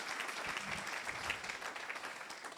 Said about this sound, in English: we should give him a huge round of applause for it.